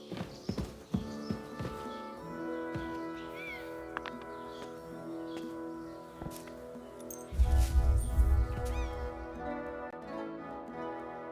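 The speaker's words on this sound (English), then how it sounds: "This must be the ugliest horse I've seen in my life." Horse hooves clip-clop in the medieval video game Kingdom Come Deliverance II, a few sharp hoof knocks near the start and then a louder trampling burst later, all under steady sustained game music.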